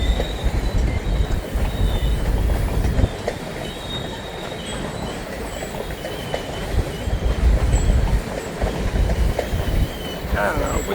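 A long freight grain train rumbles past at close range, with steady low roaring and metallic clatter throughout, and a brief high squeal near the end.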